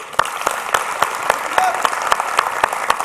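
A studio audience at a Turkish comedy talk show claps steadily, with sharp, evenly spaced hand claps and a dense patter of applause throughout.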